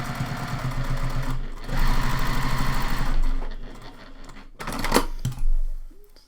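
A sewing machine topstitching with a thin presser foot: rapid, steady mechanical stitching runs in bursts, stops between them, with a few small clicks and handling noises up close.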